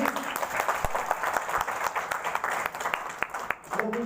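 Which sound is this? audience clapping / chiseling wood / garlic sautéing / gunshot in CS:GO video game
audience clapping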